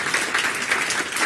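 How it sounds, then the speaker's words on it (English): A conference audience at a book launch gives a dense, steady round of applause, loud and continuous throughout. "Round of applause for Laura, Wiley."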